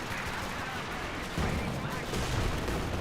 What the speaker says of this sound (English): That was just the heavy mortar barrage.